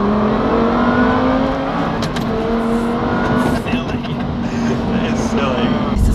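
A supercharged Audi R8 VF750 pulls hard in second gear, its loud engine note rising steadily and continuously with a whining edge, close up from inside the car, with people talking over it.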